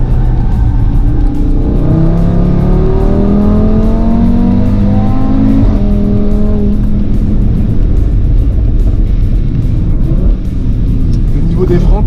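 A 1520-horsepower car on a racing circuit accelerates hard down a short straight toward about 190 km/h, its loud, close engine note climbing through repeated gear pulls before settling into a steady high roar.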